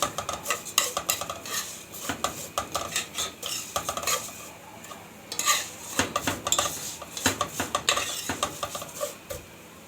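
A spoon stirs lentils and other soup ingredients in a metal pot, giving close, steady scraping and clinking in quick irregular strokes, with brief pauses and no talking.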